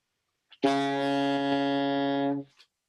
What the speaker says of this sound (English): So this is the saxophone,